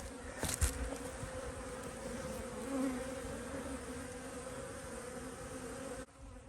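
A steady, dense buzzing of many honeybees at a hive, close and continuous, with a brief louder swell partway through before it cuts off near the end.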